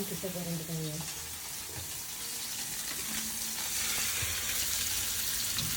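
Sardine fish frying on a hot pan, a loud continuous hiss and crackle of oil, with faint voices murmuring underneath at the start and midway.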